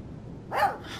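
A single short bark from the puppy Mushroom in Life Is Strange 2, sharp and fairly close, standing out briefly against a quiet low hum.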